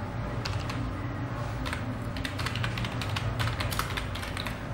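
Keys clatter on a computer keyboard as a Facebook page name is typed, in quick irregular bursts of clicks close up, with no speech.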